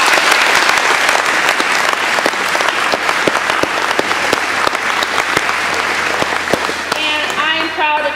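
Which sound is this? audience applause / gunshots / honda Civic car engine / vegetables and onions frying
audience applause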